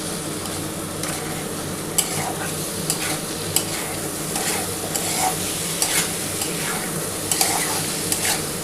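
Spice paste for a katla fish curry with potato and pointed gourd sautéing in a pan, a steady close sizzle broken by sharp scraping stirs roughly every second, no voices.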